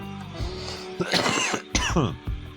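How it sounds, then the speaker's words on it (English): A man coughs and clears his throat several times in quick, close bursts, loud and near, with short pauses between fits. "coughing on my own video"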